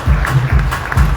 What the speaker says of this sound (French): J'appelle José Modestin, qu'on applaudit très fort.